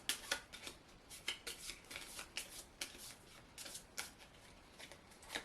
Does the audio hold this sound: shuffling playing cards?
yes